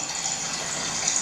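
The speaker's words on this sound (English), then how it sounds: "I've started the bath running now." Water gushing steadily from an automated bath-fill tap into a tub in a Tel Aviv hotel room, a constant, fairly loud rushing stream with no talking.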